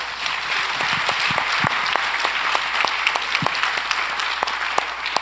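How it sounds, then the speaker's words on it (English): A conference audience applauds a panel at a cancer conference: dense, steady clapping from many hands fills the room for several seconds without a break, loud and close, with no talk over it. "let's give a round of applause to our panel"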